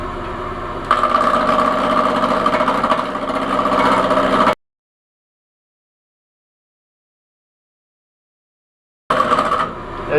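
A wood lathe turns mahogany as a carbide parting tool cuts, giving a close, steady motor hum with scraping texture, broken by a stretch of total silence before the hum resumes.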